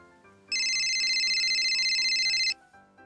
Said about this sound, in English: I will answer phone for her.